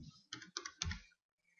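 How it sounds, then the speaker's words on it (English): Keys tapped on a computer keyboard while entering a password, three or four quick close clicks in a short burst followed by silence. "Type in your password."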